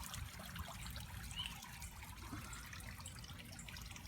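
Water from a koi pond fountain in a Minnesota garden trickles and splashes steadily, a soft, continuous outdoor flow with no talking.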